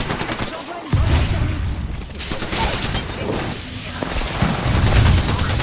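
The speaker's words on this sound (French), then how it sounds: "J'envoie une grenade" A grenade thrown in an Apex Legends match, loud game combat with a sudden blast followed by dense bursts of gunfire and rumbling booms throughout.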